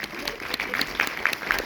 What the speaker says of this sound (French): Donc je vous demande d'applaudir très très fort Paul Rapace,